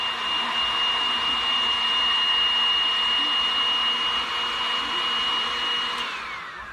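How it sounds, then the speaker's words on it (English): A heat gun blows with a steady, loud whirring rush of air and a high motor whine while shrinking heat shrink tubing over hall sensor wiring, then winds down at the end. "I'm going to go ahead and heat that up with the heat gun."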